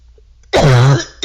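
A single short, harsh cough or throat-clearing burst, close and loud, followed by the start of another.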